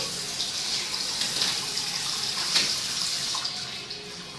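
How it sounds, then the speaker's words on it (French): Steady hiss of running tap water close by as fingers are wetted during dental occlusion model work, a continuous even splash with no talk. "Nous allons mouiller bien sûr les doigts."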